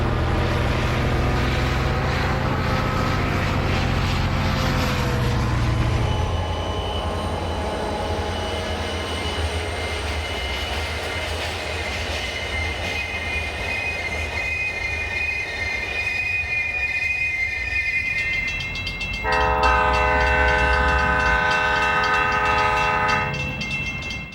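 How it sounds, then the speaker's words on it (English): Santa Fe Richmond Road Switcher freight train rolling over the SP into Richmond, with loud wheel squeal and rumble close by, then a long multi-tone horn blast near the end. "The Richmond Road Switcher rolls over the SP as it arrives back into Richmond."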